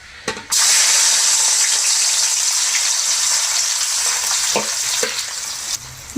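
Onions dropped into hot oil with cinnamon and cloves, bursting into a loud, steady sizzle after a short quiet start, with a few stirring knocks near the end.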